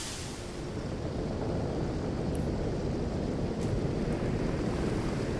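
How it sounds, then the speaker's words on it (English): Waterfall in the video game Divinity: Original Sin, heard as a steady, loud, broadband rush of falling water that holds at an even level throughout, with no other sounds standing out. "I knew about the bloody waterfall."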